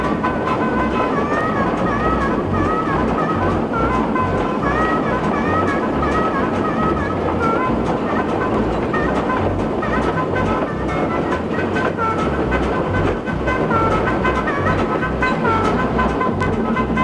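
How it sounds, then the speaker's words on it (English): A restored Porter steam locomotive runs on rails with a steady, loud rumble and continuous rhythmic clatter from the track, filling the whole stretch without pause. "Old steam engines like the Porter"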